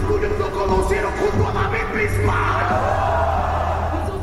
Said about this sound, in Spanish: Los gritos del público no reflejan la bestialidad de la rima.